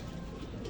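A brief, soft cooing of racing pigeons at a pigeon derby sits under a constant outdoor wash of noise, lasting under a second.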